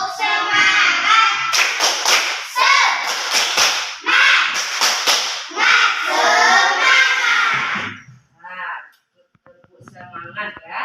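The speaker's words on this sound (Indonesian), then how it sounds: "Ayo, sebelumnya kita tepuk semangat dulu." A class of students claps a patterned rhythmic cheer led by a teacher, mixed with chanting voices, several bursts of clapping and voices, then quieter talk at the end.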